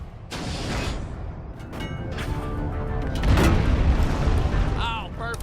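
Ships blowing up in the sci-fi shooter Borderlands: The Pre-Sequel, heavy booming blasts that swell and rumble for several seconds, layered with game effects and mixed under a talking voice.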